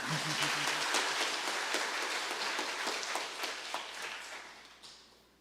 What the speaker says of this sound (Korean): 잠깐 우리 박수 한번 쳐주시죠